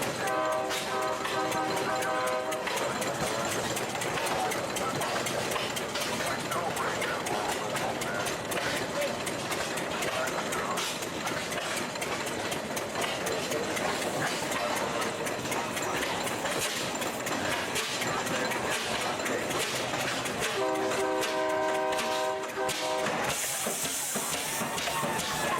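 A 600-horsepower Snow Type Y internal combustion engine, a slow-speed industrial engine from around 1914 built to run on crude oil, runs with a steady, dense mechanical roar and hiss that continues without pause.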